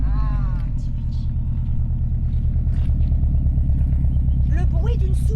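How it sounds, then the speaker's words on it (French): A Subaru Impreza WRX STI Petter Solberg WR1 idles just after a cold start, a loud, steady, throbbing flat-four rumble up close that runs the whole time, with people talking over it toward the end. "Le bruit d'une Subaru est inimitable."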